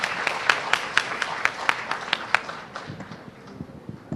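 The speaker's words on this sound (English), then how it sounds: "A round of applause for our 3 panelists" Audience applause at a panel discussion on public health insurance, thanking three panelists: a burst of dense, crisp clapping that thins into scattered claps and a few louder individual hits near the end.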